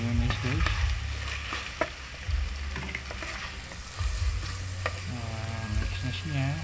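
Tilapia sisig being mixed with mayonnaise in a hot pan, heard as a steady sizzle under repeated scraping and stirring strokes, with a voice talking over it.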